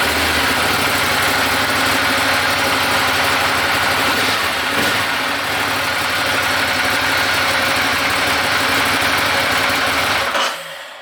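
A Ducati Monster 1200R motorcycle engine with a new lithium battery runs at a loud, steady idle close by, then cuts out abruptly near the end.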